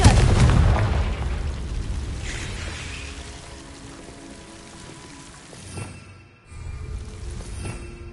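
The Confringo fire spell in Hogwarts Legacy goes off with a loud, booming burst at the start that rolls into a long, fading rumble. A second, softer thud and whoosh follows near the end.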